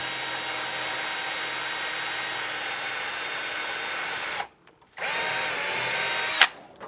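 A power drill fitted with a 1564 bit bores a hole into a HasLab Proton Pack shell: a steady, close, high whine for about four seconds, a brief stop, then a second burst ending with a sharp bite.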